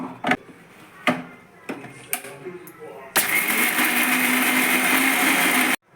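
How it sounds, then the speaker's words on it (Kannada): A kitchen mixer grinder grinds chickpeas into powder, starting after a few knocks and clatters with a loud steady whirring roar that runs for several seconds before cutting off. "ಈಗ ನಾನು ಕಡಲೆನ ಪುಡಿ ಮಾಡ್ತಾಯಿದ್ದೀನಿ"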